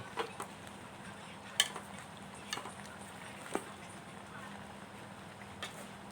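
A utensil scrapes and taps against a pot while stirring chicken and mixed-vegetable curry (kaeng om) on a new gas stove, a few light irregular clinks over a steady background hiss, with someone speaking at times.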